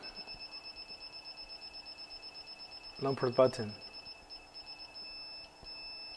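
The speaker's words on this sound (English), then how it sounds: "Okay, you can hear the long beeps. It means it's already activated." A Freego sharing scooter gives off steady long electronic beeps on activation that repeat throughout, holding a constant high tone, while a voice speaks briefly in the middle.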